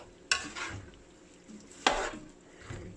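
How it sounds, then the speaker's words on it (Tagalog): A spoon scrapes and clacks against a pan as dinuguan is stirred, giving two sharp strokes with softer scrapes and a light sizzle between them, close and without talk. "Ayan, hahaluin ng hahaluin."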